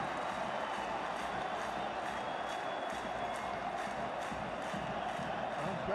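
Loud, dense stadium crowd roaring steadily throughout, cheers and shouts swelling in a continuous wash just after Northern Ireland take a 2–1 lead over Portugal in a 2014 World Cup qualifier.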